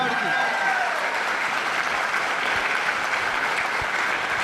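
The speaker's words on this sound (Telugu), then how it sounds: "ప్రవీణ్ సార్కి మనందరం కూడా ఒకసారి గ్రాండ్గా క్లాప్స్" A seated audience at a business training camp claps together in sustained, dense applause, loud and close, holding steady throughout with no pauses and a soft voice or music trace behind it.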